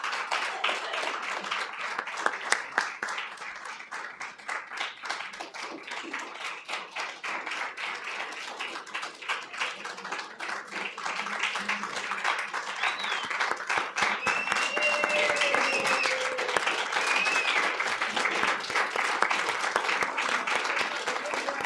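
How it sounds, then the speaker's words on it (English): A crowd at an evening awards ceremony applauds the recipients with sustained, hearty clapping of many hands that builds slightly louder toward the end and carries on for over twenty seconds, with some voices mingled in. "By the heartiness of those applause"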